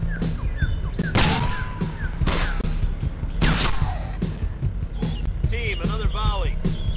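Gunfire volleys ring out in a zombie-themed military video game, several sharp bursts of shots spread across the clip amid busy game effects.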